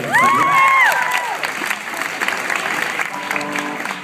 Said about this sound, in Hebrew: קודם כל המון כפיים לזאפה החדשה